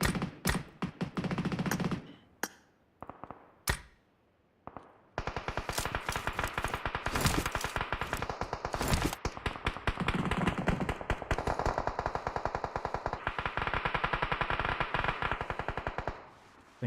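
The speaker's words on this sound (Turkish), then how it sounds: "İngiliz silah atıyor." Rapid video-game gunfire in a team shooter, with bursts of machine-gun fire at first and then long, dense, sustained automatic firing that runs close and loud for most of the stretch.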